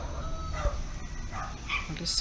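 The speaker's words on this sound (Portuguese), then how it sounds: "Tem umas galinhas de Angola ali, olha que gracinha." Guinea fowl at a rural family home give a few harsh, rasping calls, moderately close and mixed with other farmyard sounds, while a voice speaks briefly over them.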